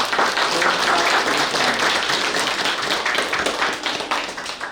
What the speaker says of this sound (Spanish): Vamos a darles un fuerte aplauso para esta familia.